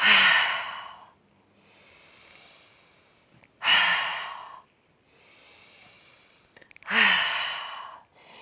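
Slow, deep breaths during a yoga barrel roll on a mat: three long audible exhales or sighs, each followed by a quieter inhale, close and unaccompanied by talk.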